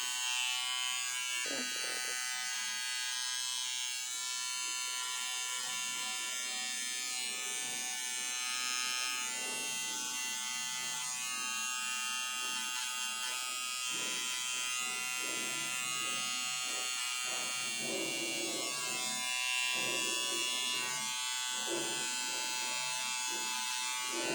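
A Philips 7000 series trimmer fitted with a small precision blade hums in a steady high electric buzz that runs continuously, close and even, with a person talking over parts of it.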